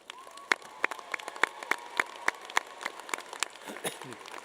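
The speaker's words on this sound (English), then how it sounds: "Let's give them a round of applause" Applause at a Sac State business administration graduation ceremony, heard as steady, distinct nearby claps in a regular rhythm over a softer spread of clapping from the crowd, with a faint steady hum underneath.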